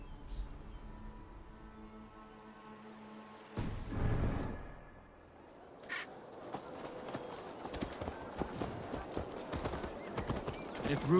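Horse hooves clip-clop steadily while riding in Assassin's Creed Valhalla, with a brief loud whinny or snort early on, then continuous galloping hoofbeats over a rough, busy terrain ambience.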